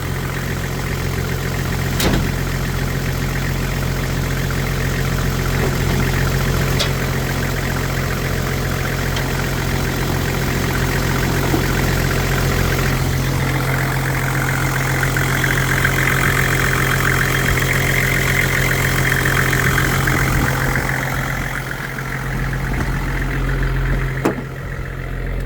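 A 1999 Toyota Land Cruiser HZJ76 idling steadily with a low, constant rumble and vibration, heard close with no talking over it.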